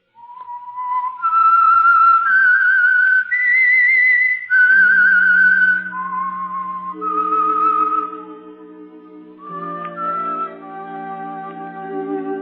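A melodic whistled tune, the theme of the 1945 radio drama The Whistler, clear and close, rising in pitch then settling lower, joined by soft orchestral chords in the second half.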